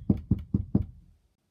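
Four firm, evenly spaced knocks on a door, close and dull, followed by silence.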